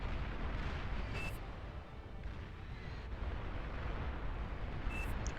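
Catapult artillery in Beyond All Reason pounds missile cruisers with a dense, continuous rumble of distant booms and explosions, and faint pops cut through now and then.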